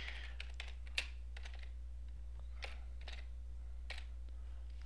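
Quick bursts of keyboard typing, light clicky keystrokes in short clusters with pauses between, close by and fairly quiet over a low steady hum.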